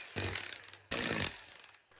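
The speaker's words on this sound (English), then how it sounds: "put it on the wall and drill through that" A power drill bores into a garage wall to fix screws and wall plugs for a helmet mount, running in two close, loud bursts with a brief pause between them.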